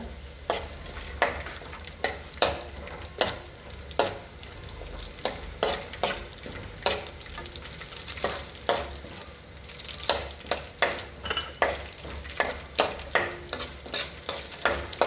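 Almonds stirred and fried in ghee for zarda, a steady sizzle broken by regular sharp scrapes and clinks of a spoon against the pan, close and fairly loud, no talking.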